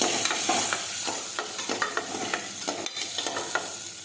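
Choli beans with mustard seeds, cumin and asafoetida sautéing in hot oil, a steady bright sizzle broken by repeated scraping stirs of a spoon against the pan, close and fairly loud with no talking.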